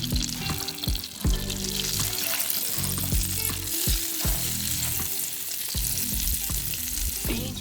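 Bacon frying in butter in a pan inside a heated tent during cold-weather winter camping in Quetico, making a loud, continuous close sizzle with occasional stirring and clattering, with no talk over it.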